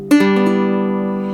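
A single plucked chord on a custom low-D ukulele rings out, strummed once near the start and left to sustain and slowly fade, warm and fairly close, with no talking.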